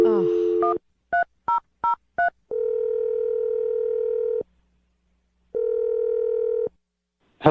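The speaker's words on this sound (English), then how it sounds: "let's dial the phone number" Touch-tone dialing of a phone number during a radio morning show prank call: an opening tone, then five quick evenly spaced keypad beeps, then two long ringback tones separated by a pause. The sounds are clear and close, with no talk.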